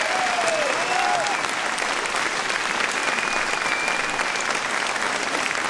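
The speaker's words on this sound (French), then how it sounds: "Oui, applaudissez-le." A rally crowd applauds the mayor in a dense, continuous roar of clapping that stays loud and unbroken throughout, with faint whistles or cheers rising briefly above it.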